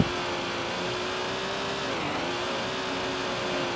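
A small electric RC car with an FPV system drifts with a steady, high-pitched motor whine whose pitch dips briefly mid-slide before it returns to a constant drone.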